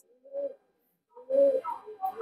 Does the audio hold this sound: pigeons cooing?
yes